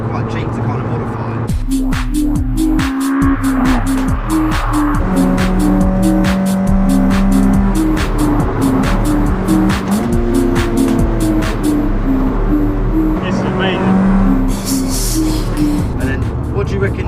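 The engine of a modified Citroen Saxo drones loudly from inside the car while driving, holding steady with some rising and falling revs. Road noise runs underneath and people talk over it.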